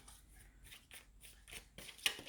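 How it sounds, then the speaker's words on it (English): Tarot cards are shuffled close by in a quick run of soft papery riffles and taps, each burst short and faint, ending with a slightly sharper snap. "just shuffle here my other tarot cards"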